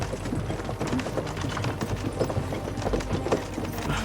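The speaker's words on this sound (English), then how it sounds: "don't you think maybe we could make the horses go a little faster?" Horse hooves clip-clop at a steady walking pace in the medieval game Kingdom Come Deliverance 2, a continuous rhythmic clatter with a low background rumble throughout.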